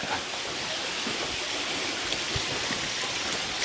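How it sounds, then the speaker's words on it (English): Small waterfall in a Roman-style spa area of a large estate, a steady close hiss of splashing water with occasional faint knocks and no talking. "Got another little waterfall out here."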